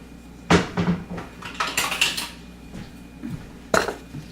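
Cutlery and dishes clatter in a kitchen drawer while someone rummages for teaspoons: a sharp metallic clink, a run of jangling scrapes and rattles, then another crisp clank near the end, close and fairly loud.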